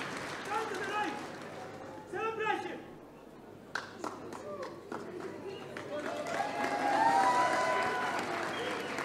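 Applause at an IT advanced-diploma graduation ceremony, with a large crowd clapping in a dense wash that builds toward the end, heard amid cheering and voices over the hall.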